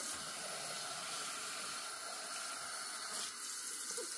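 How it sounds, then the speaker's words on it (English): Water runs from a kitchen tap in a steady, close, broadband hiss that holds unbroken throughout, with no voices. "We're going to get some water right from the tap."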